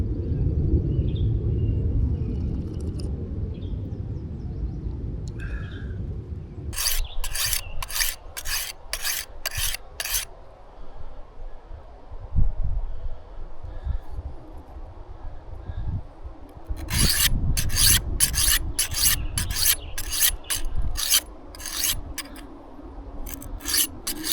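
A coarse file rasps off steel in two runs of quick, rhythmic back-and-forth strokes, loud and close, separated by quieter pauses with low outdoor rumble.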